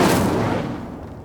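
The Incendio fire spell in Hogwarts Legacy goes off as a single loud whooshing burst that fades steadily over about a second, with no talk.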